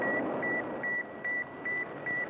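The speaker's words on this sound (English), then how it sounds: "You are hearing the actual signals transmitted by the Earth-circling satellite" Radio signal from the Sputnik satellite: six evenly spaced, high electronic beeps pulse over a hissing static background.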